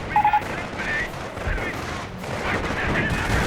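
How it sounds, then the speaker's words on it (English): Mortar and artillery fire in a World War II combat video game, heard as a series of muffled booming blasts and crackling gunfire in the middle distance, continuing steadily over the whole stretch beneath faint battle noise. "more mortars killing me"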